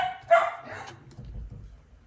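Several dogs bark in a short burst indoors, one sharp close bark near the start, then softer yips and low rumbling sounds fading away.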